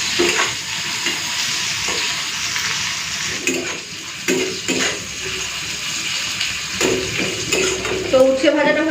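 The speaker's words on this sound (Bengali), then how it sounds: "উচ্ছে ভাজাটা হয়ে গেছে" Bitter gourd frying in a pan with salt and turmeric, giving a continuous sizzle under repeated stirring, with utensil scrapes and clinks against the pan and a brief murmur of speech.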